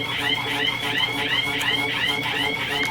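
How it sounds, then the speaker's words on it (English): An alarm in an emergency room beeps in a steady repeating pattern of rising electronic tones, loud and continuous over a low running hum throughout. "can hear the alarm"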